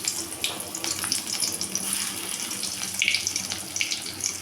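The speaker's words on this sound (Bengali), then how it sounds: "এখন আমি মাছগুলো ভাজবো।" Pieces of rohu fish coated in lentil paste frying over low heat in hot oil, giving a steady, close, crackling sizzle that runs throughout with small spitting pops.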